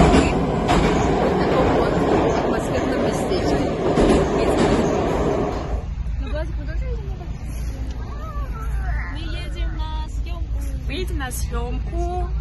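Steady rumble and clatter of a subway train in motion, with crowd chatter mixed in; the din drops partway through as voices come forward over the ride.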